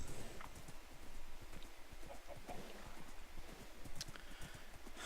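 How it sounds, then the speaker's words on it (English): A horse's hooves clop in a steady, quick rhythm while being ridden in Minecraft, fairly faint over a hissy background, with a few animal clucks mixed in. "I suppose we should go ride through the desert on the horse with no name now"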